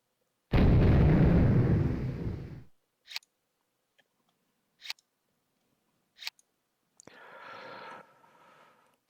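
Artillery fire in the war game Battle Group Commander: one long rumbling boom opens, followed by several short, sharp cracks spaced apart and a softer, later rumble, with no talk.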